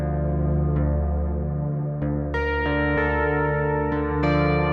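Reason poly synth patch with tape, reverb, delay and echo effects, sustained layered chords with new notes entering in steps and a long echoing tail, played alone.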